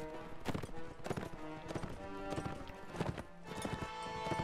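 Horse hooves gallop in Mount & Blade: Warband, a quick, steady clip-clop of repeated hoof strikes with a few louder thuds, fairly close and heard on their own with no talking.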